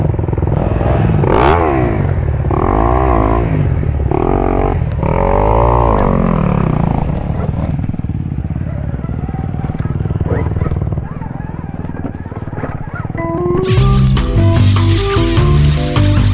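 A Stark dirt bike churns over a rough, treacherous trail, its motor whining and rising in pitch in repeated surges while people talk over it, with a clattering burst of louder sound near the end.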